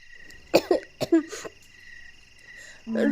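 A girl coughs lightly to clear her throat, a quick cluster of three or four short, close coughs, followed by quiet and a faint tone.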